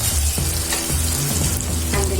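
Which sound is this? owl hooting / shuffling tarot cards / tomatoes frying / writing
tomatoes frying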